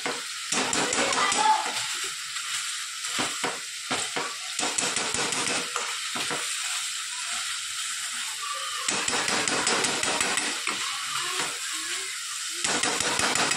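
Cauliflower, cabbage and potato sizzling in a pan for pav bhaji, a steady bright hiss broken by stirring and scraping sounds, with occasional talk.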